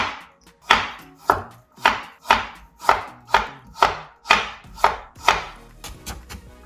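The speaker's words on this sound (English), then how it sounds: "Julienne them first." A knife julienning carrots on a cutting board, about a dozen crisp, evenly spaced chops, close and loud, each with a sharp attack and short decay, with no talk.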